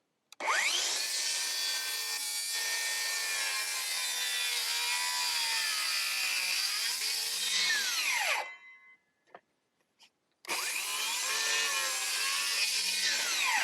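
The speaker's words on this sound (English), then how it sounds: "used my circular saws to cut along the lines" A circular saw rips through a wooden fence top plate to cut a notch, a loud, steady high whine for about eight seconds, spinning down, then a second sustained cut after a short pause.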